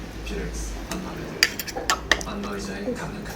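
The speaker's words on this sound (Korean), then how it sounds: "한번 저어보실까요?" Utensils clink and scrape against a bowl of hearty Korean noodle soup with potato, egg and zucchini at an old-style restaurant, a handful of sharp metallic taps clustered mid-clip over a low room hum.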